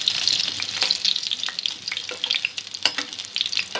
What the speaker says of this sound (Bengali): সামান্য আলু একটু আগে ভেজে নেব।